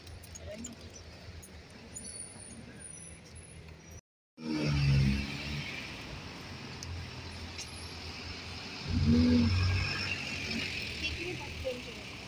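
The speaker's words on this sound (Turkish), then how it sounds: "Bugün trafik yoğun." Heavy weekend road traffic heard while out walking, a steady wash of passing vehicles with a couple of louder heavy vehicles rumbling close by and a short dropout in the middle.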